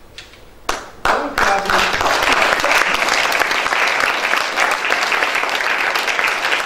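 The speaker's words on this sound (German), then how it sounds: "Der Applaus gilt Ihnen" Sustained applause from an audience honouring award-winning women at a prize ceremony, starting after a couple of sharp claps and holding steady and dense throughout, with a voice briefly heard over it at the start.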